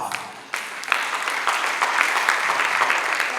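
A welcome for a professor at an academic research-writing workshop: applause rises abruptly from a quieter room into a full, sustained round of many people clapping, with individual sharper claps standing out.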